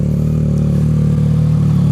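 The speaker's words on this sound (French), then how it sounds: "je fais chauffer la moto" A Yamaha MT-09 motorcycle engine warming up at idle, a steady close, loud low throb with a faint mechanical clatter on top.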